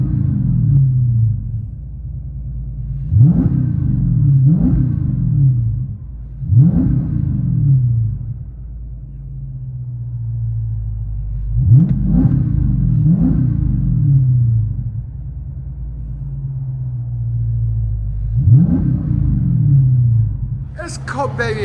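A 2013 Dodge Charger SRT8 with a 6.4L HEMI V8 and Jones mufflers, heard from the cabin, settles into a deep burbling idle. Five or six sharp revs rise and fall back, loud and close, and a brief voice breaks in near the end.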